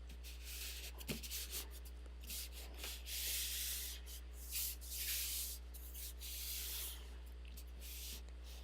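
Soft, steady rubbing and sanding-like strokes over an 8.5 by 11 inch blue paper cardstock background, smoothing ridges left by added liquid; faint, continuous scuffing with small swells, no talk, under a constant low electrical hum.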